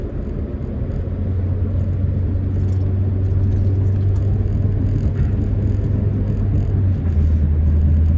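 An old Honda car driving on the way to the gym, heard from inside as a steady, loud low engine and road rumble that continues throughout.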